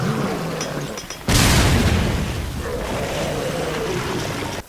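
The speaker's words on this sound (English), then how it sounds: "Alright, your typical grenade explosion." A grenade blows up in the video game Resident Evil: Revelations, a sudden loud close boom that cuts in over the game's ambient hum, then a long rumbling decay.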